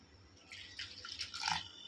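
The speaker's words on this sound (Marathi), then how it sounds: "आता आपण ह्यामध्ये पाणी घालणार आहोत" Brief splashing trickle of water being poured into a pot of dill leaf curry, starting quietly and growing louder over about a second and a half.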